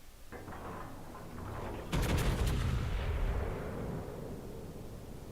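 Artillery fire support called in during a World of Warships naval battle: a sharp cluster of heavy shell blasts lands at once, followed by a long rolling rumble that slowly fades over steady background ambience.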